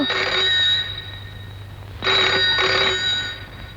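A telephone rings twice in short bursts, loud and close, with a pause between rings.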